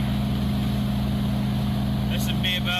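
A V8 engine running steadily at highway cruise around 3,500 rpm in a Nissan S13 fitted with a J30 differential and a 3.9 final drive, giving a constant droning hum with a brief higher whine near the end.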